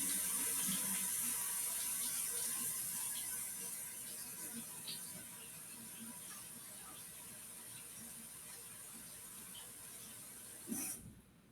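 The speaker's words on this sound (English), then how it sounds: "Let me go ahead and wash it off." Water runs steadily from a tap while a sanded wood project is rinsed off, a quiet continuous hiss that fades lower midway and ends with a brief clunk.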